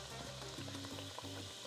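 Guava and cheese empanadas deep-frying in oil produce a loud, continuous bubbling sizzle with faint low tones humming underneath; nobody speaks.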